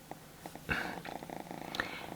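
A kitten purrs softly up close, a quiet rhythmic rumble pulsing steadily through the short moment with a couple of faint clicks.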